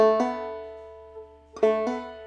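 Two plucked clawhammer banjo pickup notes on the third string, opening the tune Briarpicker Brown, ring out clearly and alone, separated by a short pause, with a steady low hum underneath.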